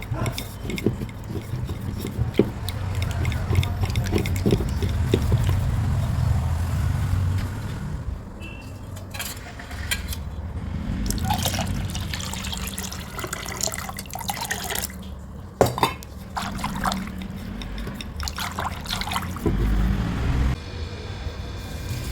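Curd being churned into buttermilk for a traditional Tamil mor kali, a steady liquid sloshing and swirling close by with a few sharper splashes and knocks, no talk.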